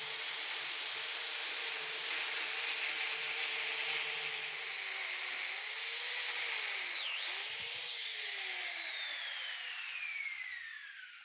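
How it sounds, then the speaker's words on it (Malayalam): Power drill boring holes into floor tile for 1-inch handrail posts: a continuous high whine that dips and recovers in pitch as the bit loads and frees, fairly close, with no talking. "അപ്പോൾ അതിൻ്റെ മുന്നേ ആയിട്ട് നമുക്ക് ടൈല് ഹോൾ അടിക്കണം കേട്ടോ"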